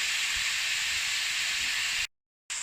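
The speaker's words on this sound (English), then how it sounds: "as our meat is browning" Ground meat browning in a chili pot gives a continuous loud sizzle and hiss that cuts off abruptly near the end, then briefly resumes.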